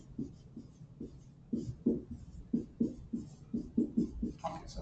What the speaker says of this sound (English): let's write first that this is our proof sketch